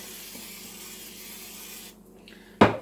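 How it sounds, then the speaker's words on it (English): Olive oil spritzed onto a greased waffle pan: a brief, sharp hiss bursts out near the end after low steady background noise and a short quiet gap. "spritzes of olive oil"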